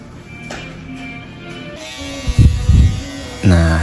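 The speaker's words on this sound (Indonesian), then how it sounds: "Nah, di sini saya menggunakan shaver merek Wimax." A Wimax electric shaver buzzes steadily through a barbershop fade haircut, smoothing hair below the trimmer line, with louder bursts of its motor near the end and soft talk in the background.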